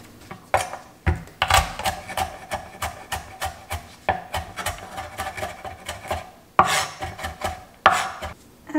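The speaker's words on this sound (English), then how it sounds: "Mince some garlic." Knife chopping garlic on a board for Korean army stew (budae jjigae): quick, rhythmic bursts of sharp taps, near and fairly loud, with brief pauses between runs and no talking.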